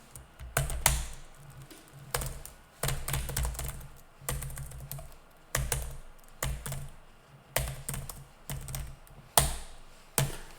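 Someone types on a computer keyboard in irregular bursts of clicking keystrokes, with short pauses between the runs, close and with no talk.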